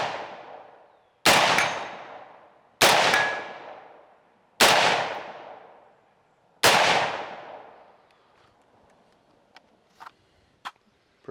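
A Kel Tec SU16 rifle fires four loud, sharp shots at uneven intervals, each ringing out into a long echoing decay, followed by a few faint clicks.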